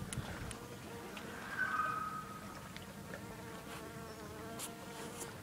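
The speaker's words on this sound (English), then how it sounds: "There's a bee." A bee buzzes close by outdoors for a moment, a brief rising drone over steady background hiss, followed by faint, scattered rustling.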